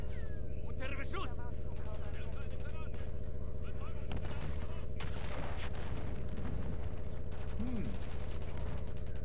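Gunfire in Call of Duty Modern Warfare 3 comes as loud, close bursts of rapid shots and heavy booms over a constant low engine-like drone, while game voices shout in the background.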